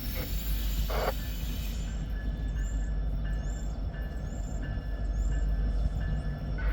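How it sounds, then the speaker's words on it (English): A lone railway locomotive moving through a town street crossing, a steady low rumble with faint metallic squeals, heard from a moderate distance in outdoor ambience. "we got a lone locomotive coming out of here"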